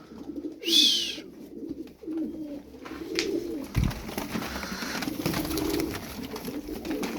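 Tumbler pigeons coo with low, throaty, repeated murmurs close by, alongside a brief bright chirp, wing flutters and scattered handling noises around a loft.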